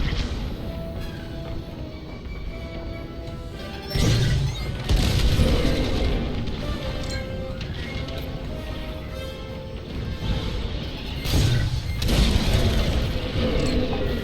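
Space battle in Star Wars: Squadrons, with a Corvette under heavy fire and TIE fighters inbound; booming explosions hit at intervals over a steady mechanical hum and scattered blaster-like bursts, loud and close.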